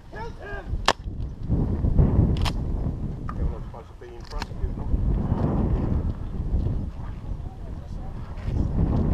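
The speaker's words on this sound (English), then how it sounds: "I heard the gunfire." Gunfire in the military shooter game Spec Ops: The Rock, sharp cracking shots scattered across a windy, rumbling outdoor soundscape, some near and some distant, under the players' voice chat.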